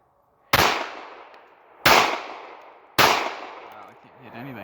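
Three loud outdoor gunshots at a rural compound, each a sharp close crack with a long ringing decay, spaced about a second apart.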